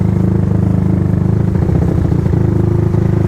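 A Yamaha Sniper motorcycle with no starter and no kickstarter, being push-started: a loud, steady engine running low and rough with a rapid pulsing throb, close by and with no voices.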